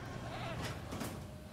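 Goat bleats in the dinosaur park game Jurassic World Evolution, a couple of short bleating calls over a steady background of game ambience, moderately loud.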